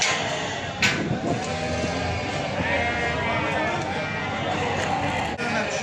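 Lambs bleating at a busy sheep market in Beylagan, several overlapping calls rising over a dense crowd murmur with people talking throughout.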